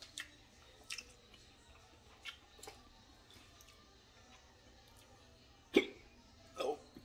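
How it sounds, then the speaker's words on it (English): Hiccups from a person after eating extremely hot sauce: a few sharp, brief bursts, the strongest two near the end, heard close over a quiet room with faint mouth noises between. "here come the hiccups"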